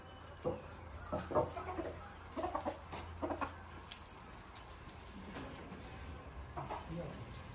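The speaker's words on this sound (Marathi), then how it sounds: "तो तिकडे कोंबडे कुक कुक" Rooster clucking in short, scattered bursts at a farmyard, with people talking intermittently nearby over light background noise.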